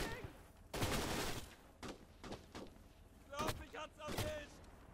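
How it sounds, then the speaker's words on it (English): Scattered gunfire bursts and single shots from soldiers firing rifles and submachine guns while running in the World War II game Gates of Hell, irregular and mid-distance, mixed with battle noise. "Now the soldiers do actually fire their guns while running"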